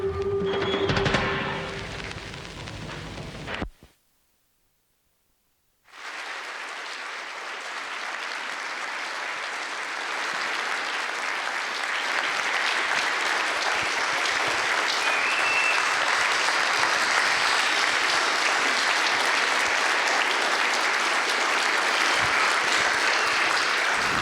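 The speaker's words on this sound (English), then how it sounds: "Thank you for that applause" Sustained, loud applause from a large audience at a faculty event, rising after a brief silence and continuing steadily for about twenty seconds with dense, overlapping clapping.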